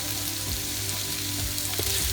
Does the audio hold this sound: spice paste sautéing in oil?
yes